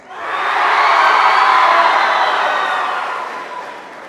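Students in a school show audience cheer and whoop loudly for a wing-eating contestant, a dense sustained roar that swells quickly and slowly fades.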